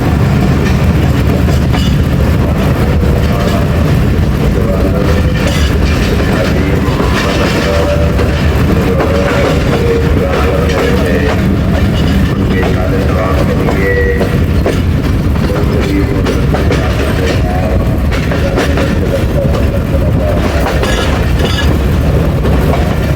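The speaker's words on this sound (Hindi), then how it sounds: "तो हमारी ट्रेन हो गई है जी लूप लाइन पे गुजरांवाला कैंट के" Awam Express passenger train rolling onto the loop line at Gujranwala Cantt, heard from on board as a loud continuous rumble with steady wheel clatter and occasional squeals, and no voices.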